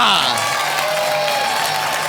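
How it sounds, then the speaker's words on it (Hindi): Studio audience on a Saturday game show applauding and cheering, a dense steady wash of clapping with a few whoops, loud and close throughout the short stretch. "तालियां"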